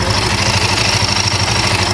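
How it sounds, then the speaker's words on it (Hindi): Close, steady idling of a 2024 Royal Enfield Guerrilla 450 motorcycle engine inside a showroom, a continuous low throbbing rumble with a faint whine above it. "और इंजन साउंड"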